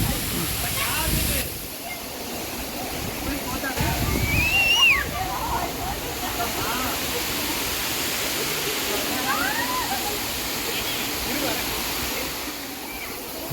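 Courtallam waterfall pouring down steadily, a loud continuous rushing and sloshing roar of water with no break.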